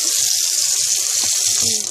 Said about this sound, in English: turn the faucet on. And put the bowl under the faucet, like that.